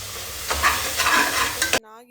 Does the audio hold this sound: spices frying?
yes